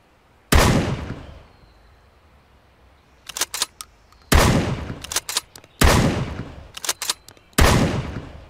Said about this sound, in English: Ooh, I like that. The RM, the shotgun.